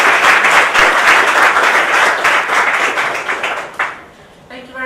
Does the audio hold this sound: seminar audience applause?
yes